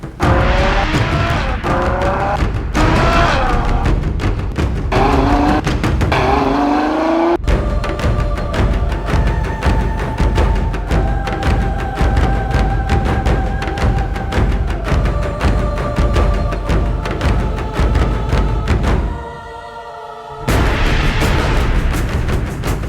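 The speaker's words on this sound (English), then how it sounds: "I've got my hands behind the wheel of the Ferrari FF" Ferrari FF engine revving loudly on the move, a dense, continuous roar with rising gear-change sweeps early on, steady harmonic drone in the middle and a brief drop in noise before the revs surge back.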